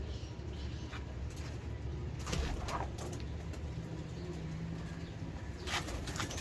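Pigeons in a loft, a pair of the well-known Pipla birds among them, coo softly against a constant background hum, with a few wing flutters and light movements now and then.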